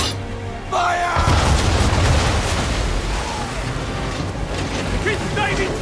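Ship cannons fire a broadside in Assassin's Creed 3, a heavy booming barrage that rolls on for several seconds at sea, loud and close, mixed with shouting crew and crackling noise.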